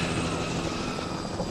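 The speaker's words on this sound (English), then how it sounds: "Helicopters." The constant rumbling drone of a helicopter in the video game The Last of Us Remastered, steady and fairly loud, with no voices over it.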